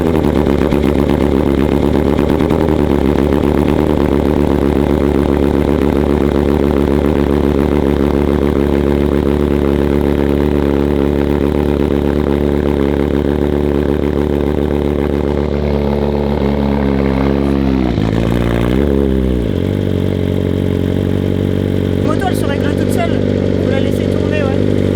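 BMW S1000RR motorcycle fitted with a full exhaust system, idling loud and close with a deep throbbing beat, then blipping through a couple of sharp revs before settling back to idle.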